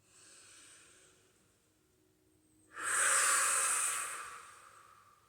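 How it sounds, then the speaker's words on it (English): Yoga breathwork: a faint, gentle breath is followed by a sudden, strong, hissing inhale through the nose that lasts over a second before fading, close up with no talking. "Inhale through the nose. Open your hands to exhale."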